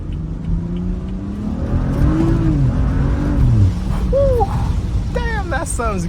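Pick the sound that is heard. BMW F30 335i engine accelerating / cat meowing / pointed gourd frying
BMW F30 335i engine accelerating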